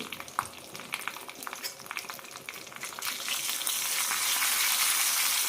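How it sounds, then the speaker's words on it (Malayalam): Mustard seeds, urad dal and curry leaves sizzle in hot oil for an ash gourd chutney tempering, with crackling pops early on that build into a steady, loud frying hiss. "ഇനി ഇതിലേക്ക് തളിച്ചിടാം കടുക് ഉഴുന്ന് കറിവേപ്പിലയാണ് തളിച്ചിരിക്കുന്നത്"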